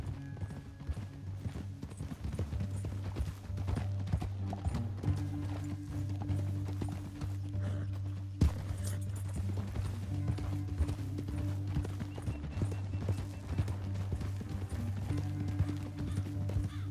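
Horses clip-clopping along a canyon trail, a steady stream of hoof beats over a low droning music bed, with occasional whinnies and faint creaks.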